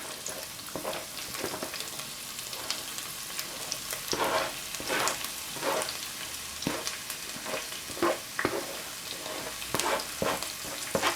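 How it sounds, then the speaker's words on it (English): Fresh seasoning sautés in a hot pan for salt mackerel, a steady close sizzle broken by repeated stirring scrapes and clatters, with no talking. "Just going to saute these and then I'll add the tomatoes."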